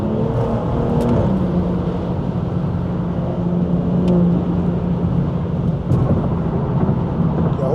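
A stage 2 BMW B58 engine drones steadily through its exhaust on a highway cruise, a continuous loud low rumble with a couple of faint clicks.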